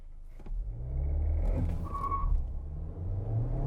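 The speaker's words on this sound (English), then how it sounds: "let's punch it to 60 to see how it stacks up in the real world" A 2022 VW Taos accelerating hard from a stop to 60 mph, its engine rising from a low idle rumble into a sustained strained drone heard from inside the cabin, with no talking.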